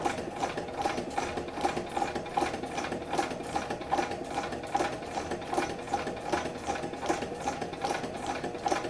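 A sewing machine stitches through a paper valentine card, running steadily with a fast, even mechanical chatter of the needle throughout, close and continuous with no talking.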